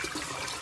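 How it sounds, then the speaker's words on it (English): A toilet flushes in a rushing, gurgling surge of water, loud and continuous over a short span with no voices. "Oh, double flush. Nice."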